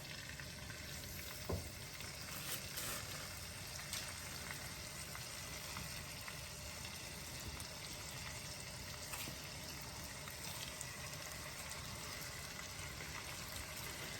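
Chicken thighs sizzling steadily in a hot pan, a soft continuous crackle with occasional faint pops, quiet and unbroken, no voices.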